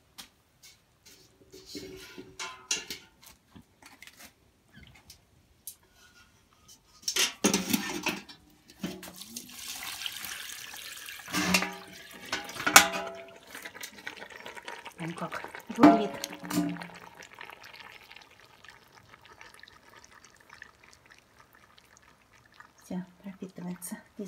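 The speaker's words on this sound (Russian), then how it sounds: "Сейчас буду заливать ее водой." Water is poured over freshly chopped grass in a container to make green fertilizer, heard as intermittent splashing pours and light clinks of a vessel, close by, separated by quiet gaps.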